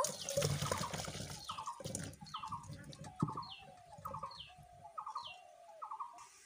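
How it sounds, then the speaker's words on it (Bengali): Steamed jackfruit and its cooking water are tipped into a perforated colander, giving a short watery pour and splash that fades into a faint trickle, while a bird chirps repeatedly and clearly in the background. "জল ঝরিয়ে নেওয়ার জন্য এরকম পাত্র নিয়েছি একটা ছিদ্রযুক্ত, একটু ঢেলে দেব।"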